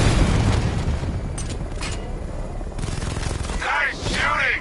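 Gunfire in the video game Batman Arkham Knight crackles in dense bursts with heavy booms, loud and continuous, ending with a short ringing metallic whine.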